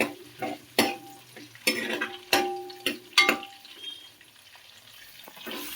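Onions and green chillies land in a hot pan for a Kerala fish mappas and sizzle, with several sharp stirring scrapes and clatters over a softer background hiss. No one speaks.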